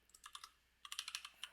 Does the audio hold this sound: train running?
no